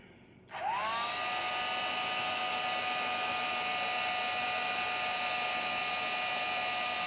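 A heat gun switches on with a rising whine and then blows hot air onto resin in a steady, loud, close whoosh with a high tonal hum, continuous to the end with no talking.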